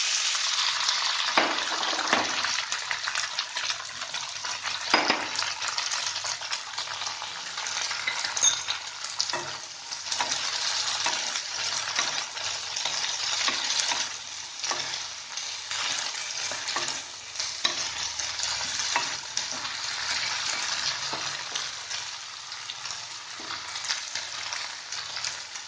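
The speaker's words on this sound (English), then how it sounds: "Now, I will put these chopped cluster beans." Chopped cluster beans sizzle and fry with asafoetida in a pan, a steady loud crackle with repeated scraping stirs throughout, no talking.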